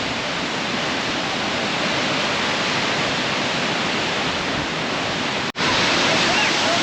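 Jog Falls thunders with a dense, steady roar of rushing water, loud and close, filling the whole clip with unbroken noise apart from a brief dropout near the end.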